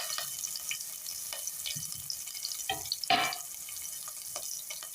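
Ginger, cumin and green chilies hitting hot oil together, giving a steady close sizzle with a few sharper crackling bursts around the middle, and no voices.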